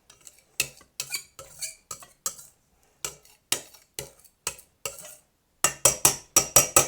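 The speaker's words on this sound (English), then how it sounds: "just go around there with a knife and just fold it all in" A knife knocks and scrapes against the side of a bowl while folding pancake batter, producing a series of short, sharp clinks in an uneven rhythm, with a faster burst of taps at the end.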